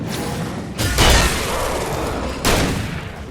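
A shotgun in the video game Alan Wake fires two heavy booming blasts about a second and a half apart, each with a short decaying tail, loud and close with no talk.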